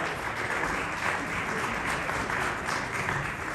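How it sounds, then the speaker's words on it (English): Sustained applause from an audience welcoming football champions at a club event, a dense, even wash of clapping that holds steady throughout without pause. "come on, a big round of applause."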